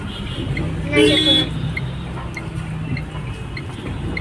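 A car horn gives one loud, close blast amid busy Hyderabad city traffic, with a steady background rumble of engines and faint, distant honks chirping at intervals afterward.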